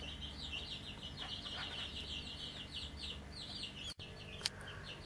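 Partridge chicks peep in a steady run of high, rapid calls while warming under a heat lamp, close and fairly loud over a low background hum, with a brief thump near the end.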